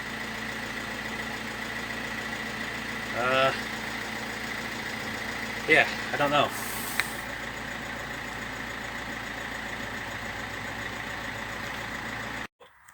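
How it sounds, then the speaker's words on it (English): Car engine idling with a steady low hum, while a person briefly speaks over it and there are a few clunks, before the engine cuts off near the end. "the engine started"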